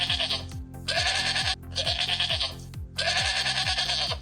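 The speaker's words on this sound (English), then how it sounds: "They bleat." A goat bleats three times in a row, loud and close, each call a long wavering cry with brief pauses between, and no other sounds around it.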